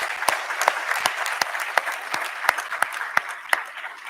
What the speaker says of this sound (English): Let's give our admissions team a really big round of applause.